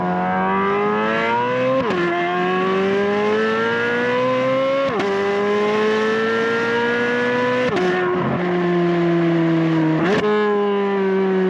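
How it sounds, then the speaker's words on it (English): A Corvette Z06 exhaust roars loudly and continuously as the car accelerates hard through several gear shifts, each upshift dropping the pitch sharply before it climbs again, with no talking over it. "So we'll insert a epic Z06 exhaust sound clip right now."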